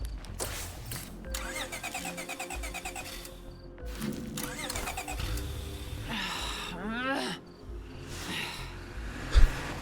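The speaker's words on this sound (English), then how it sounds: "the engine doesn't turn over first time, or turns over at all, rather" A car engine in State of Decay 2 cranks repeatedly and fails to catch, several rising starter whirs over a steady bed of crickets and insects, with brief game voices in between.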